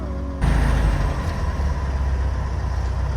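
A 1957 VW Oval Window Beetle ragtop moves off under its own power, its engine kicking up suddenly into a steady, loud, rumbling drone heard from inside the car.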